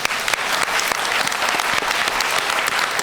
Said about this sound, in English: a round of applause for Douglas for stepping in and